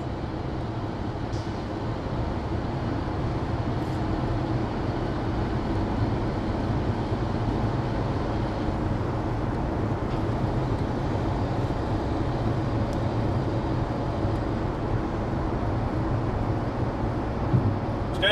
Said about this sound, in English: as I hear them gears being shifted there. We're coming up a hill.